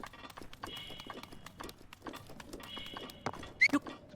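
Horses clip-clop and snort around a stable in Zelda: Breath of the Wild, with soft repeated hoof clops throughout and a brief whinny near the end, heard fairly quietly.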